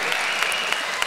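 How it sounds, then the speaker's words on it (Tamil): Quick, brisk hand clapping from an audience at a Tamil debate event in Oxford, UK, a short burst of fast claps lasting about a second with no talk over it. "இதுக்கு பாரதி மேடம் வேகமாக கைதட்டுறாங்க."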